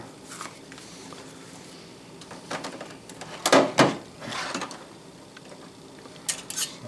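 A drawer in a watchmaker's shop holding protractors and gauges slides open with a scraping rattle, followed by a few clunks and knocks of metal tools being shifted, close and moderately loud.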